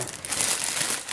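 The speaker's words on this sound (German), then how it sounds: "dann haben wir hier so eine kleine Tüte, die machen wir mal auf" A small plastic food packet from a cold-region travel ration pack crinkles and rustles as it is worked open, a brief, soft, close crackling with no talk.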